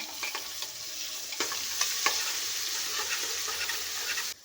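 Garlic ginger paste fries in a pan for white kushka rice, making a bright, continuous sizzle broken by several scraping stirs and light spoon taps.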